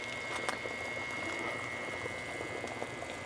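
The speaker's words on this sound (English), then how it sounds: "let me see if you can see them boiling" Beets simmer at a rolling boil in a pot on the stove while being prepared for canning, giving a steady, close bubbling hiss with small pops throughout and a faint constant tone in the background.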